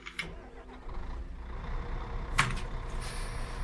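A Mercedes-Benz Travego coach's diesel engine starts up in Euro Truck Simulator 2, settling into a low steady idle rumble, with a short air-brake hiss partway through; fairly quiet with no voices.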